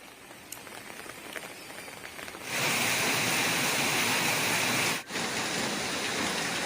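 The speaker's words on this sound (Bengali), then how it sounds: "মুষলধারায় বৃষ্টি হয়ে চলেছে।" Heavy torrential rain pours down in Falakata, North Bengal, starting as a softer patter and then surging into a loud, dense, continuous roar that holds for the rest of the span, with a momentary dip near the end.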